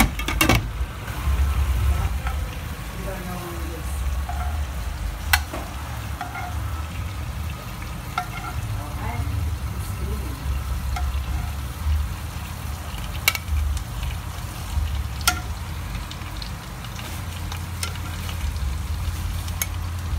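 Seafood simmering and sizzling in a pot for a big family feast, a steady bubbling fry with scattered sharp pops and clinks throughout, fairly close and without talk.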